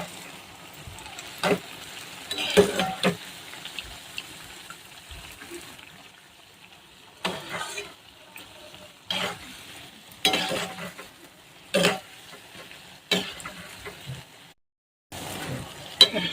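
Bhaji fritters deep-fry in oil for a traditional festival offering, giving a soft continuous bubbling sizzle. Sharper splashes and stirring bursts recur every second or two, moderately close, with a short silent gap near the end.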